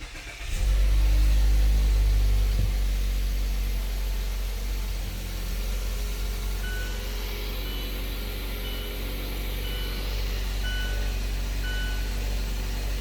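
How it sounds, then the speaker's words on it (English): A car engine cranks and catches, then settles into a low steady idle with a faint electronic chime above it. "Depress, brake pedals, start engine."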